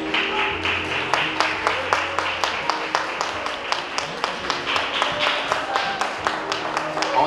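Wedding guests applaud a toast with steady, moderately loud clapping, a brisk rhythmic patter of hands continuing throughout with no talk over it.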